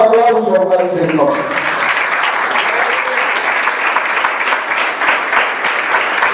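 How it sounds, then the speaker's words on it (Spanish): A church congregation applauds loudly and steadily at a service, the dense clapping filling the room; early on a voice is heard briefly over the start of the applause. "Vamos a dar un aplauso al Señor."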